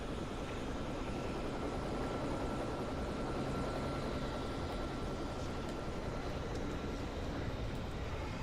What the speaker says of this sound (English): one of these is gonna hit the helicopter